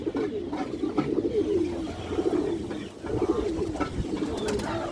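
A kaldom pigeon pair coos close up, low rolling calls repeating in overlapping bursts that briefly dip around the middle before resuming.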